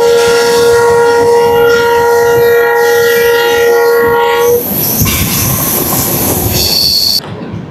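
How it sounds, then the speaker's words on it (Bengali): The Kanchan Kanya Express (13149) sounds a long, loud, sustained horn at close range over heavy rolling rumble, then the horn stops and wheel noise and high metallic squeal carry on. "এবার আমাদের ট্রেন প্রবেশ করলো জঙ্গলে।"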